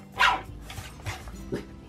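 A dog barks once sharply up close, followed by a few softer yips and whimpers.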